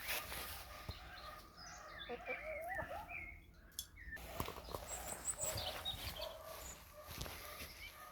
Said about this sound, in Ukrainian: Пташки співають, тепло.